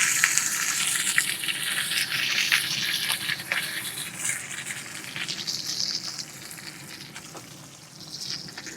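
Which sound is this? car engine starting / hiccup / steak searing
steak searing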